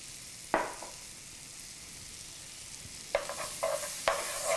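Garlic bits frying in a pan of oil before shrimp is cooked, heard as a constant close sizzle with a few sharp utensil taps and scrapes as the pieces are lifted out.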